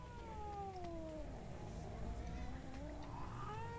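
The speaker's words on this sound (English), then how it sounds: "Oh, the cat!" A cat meows in the horror video game Dreadout 2, with rising and falling wavering cries set over a dense, constant game ambience.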